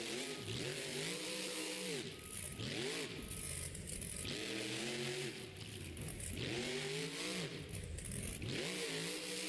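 A Monster Jam monster truck revs hard during a Stadium Series finale run in Las Vegas, the big engine surging and dropping in repeated loud swells over crowd noise.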